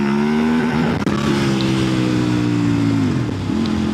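A KOVE 800X Rally motorcycle accelerates hard, its loud, close engine note climbing steadily, with brief dips where it shifts up through the gears. No one speaks.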